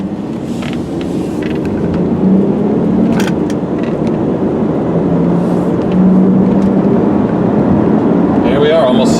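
A 2001 Mazda Millenia S accelerates on the road toward 60 mph, its steady engine drone and road rumble filling the cabin while someone talks over it.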